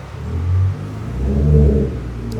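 A 1987 Mercedes-Benz 190E engine revs in two broad swells, its deep, close rumble climbing and easing over a couple of seconds with no voices.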